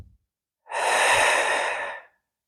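One slow, deep inhalation during a gentle beginner yoga session, a soft airy breath lasting about a second and a half, close and clear against near silence.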